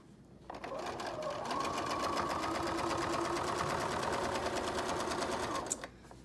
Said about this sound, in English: when you're going over a lot of thick seams like that, the #1 thing to do is just slow down